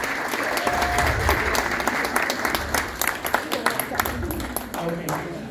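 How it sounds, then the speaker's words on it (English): Audience applause at a Liberian fundraiser banquet in Georgia, a dense wash of clapping that rises and swells with sharper individual claps near the end, heard alongside voices. "Everybody, please, please give a round of applause for Sis Dr."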